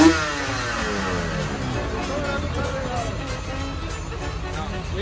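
Four-wheeler ATV engine revving steadily and close by for the whole stretch, a continuous mid-pitched motor drone with shifting tone, with a loud start and background voices chattering under it.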